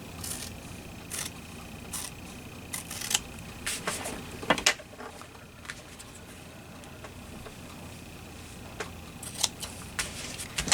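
Repeated sharp snips of scissors cutting material, irregular clusters of crisp clicks close by in a quiet room.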